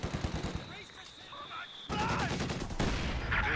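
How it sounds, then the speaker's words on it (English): Heavy machine gun fire from a Soviet Dushka in a Soviets-versus-Wehrmacht strategy game, sustained bursts of rapid shots amid battlefield noise, loud and continuous, with a voice talking over it. "Dushka putting heavy fire in from the heavy machine gun."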